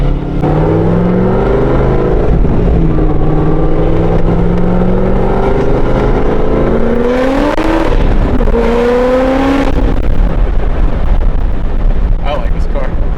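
A nearby car with an aggressive cam revs and accelerates with a loud, rising engine note, heard from inside a LS1-swapped S2000 over its own steady engine and wind noise.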